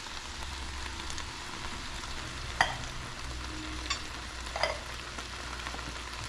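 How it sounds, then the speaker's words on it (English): Canned Rotel diced tomatoes with green chiles cooking in a hot pan, a soft continuous sizzle with a few faint stirring scrapes and clinks, fairly quiet and close, nobody speaking. "So here goes the Rotel in the pan."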